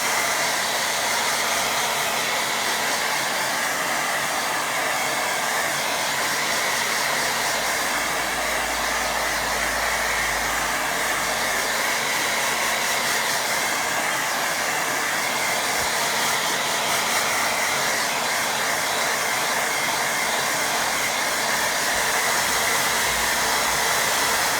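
A hair dryer blows steadily and loudly on a watercolour painting, a continuous airy roar with no break and no voices over the whole stretch.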